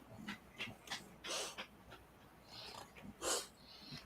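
A female dog snorts and pants in bursts while having her belly rubbed, several short breathy puffs at an uneven rhythm, close by and moderately loud, with no talking.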